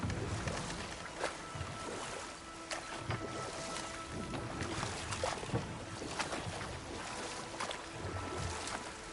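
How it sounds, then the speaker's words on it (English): Steady broadband rush of a video game waterfall, continuous and moderately loud, with faint intermittent clicks and knocks layered over the constant water noise. "Waterfalls. We're close."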